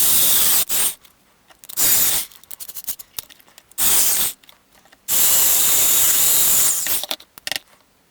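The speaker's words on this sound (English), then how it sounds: "So let's try and drill a bit of that out" Small drill bit boring into the soft metal of a vintage Advanced Dungeons and Dragons Warduke toy, several close bursts of high whirring and grinding separated by quiet pauses, the longest burst near the end, with no talk.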